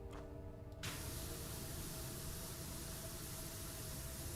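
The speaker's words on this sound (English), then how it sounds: "Make sure we can hear the sound of the sprayer." Steady, loud pressure-washer spray from PowerWash Simulator, a constant broadband hiss that runs unbroken through the whole stretch, with a brief tonal hum at the start before the spray fully opens.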